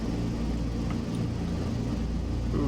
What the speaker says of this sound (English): My throttle is idling and the plane wants to keep moving.